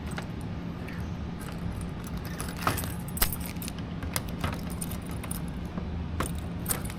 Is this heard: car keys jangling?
yes